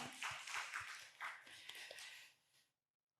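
A congregation claps in blessing during a Sunday church service, a dense burst of hand claps lasting a couple of seconds before cutting off into silence.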